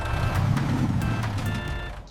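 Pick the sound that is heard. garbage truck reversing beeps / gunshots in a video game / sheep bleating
garbage truck reversing beeps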